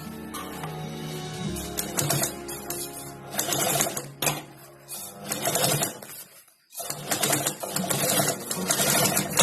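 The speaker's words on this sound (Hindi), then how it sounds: "अब इसे इस तरह मिलाकर हम इस पे भी सिलाई कर लेंगे।" Sewing machine stitching together the sides of a fabric party bag, running in steady buzzing bursts with brief pauses between seams, close and fairly loud throughout.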